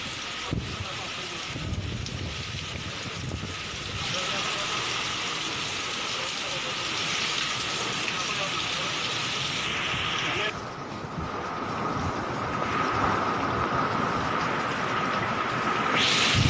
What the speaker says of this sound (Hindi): तेज बारिश शुरू हो चुकी है, आवाज सुनिए आप हवा की।